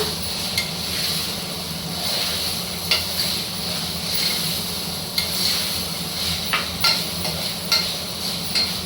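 Chickpeas and peas frying in oil in a pan make a continuous sizzle with repeated light clinks and scrapes of stirring at an uneven rhythm, close and fairly loud, with no speech.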